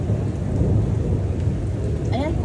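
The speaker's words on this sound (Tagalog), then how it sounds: "grabe lakas ng lakas ng kulog niya po, sobrang lakas ng hangin" Heavy rain pours steadily beside a beach during a strong storm as thunder rumbles loudly and continuously, gusting wind roaring through the whole stretch.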